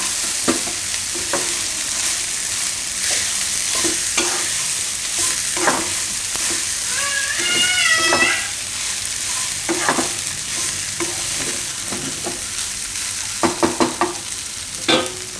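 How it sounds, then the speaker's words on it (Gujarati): Soaked poha being stirred and tossed in a hot pan under a steady sizzle, with repeated scraping strokes and clinks of the spoon, a brief squeaky scrape in the middle, close and loud. "આ રીતે નીચે ઉપર કરી અને બધા મિક્સ કરી લેવાનું"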